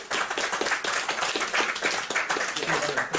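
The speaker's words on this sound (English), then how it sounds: "Please, ladies and gentlemen, give a warm round of applause for Ben Emlyn Jones." Audience applause for a speaker being introduced at a talk on SETI and UFOs, a dense, steady wash of many hands clapping throughout, loud and sustained.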